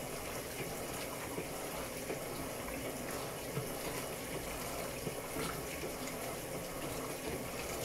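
An Electrolux LEC14 washing machine fills with water in a steady, quiet, continuous gush, with no voices.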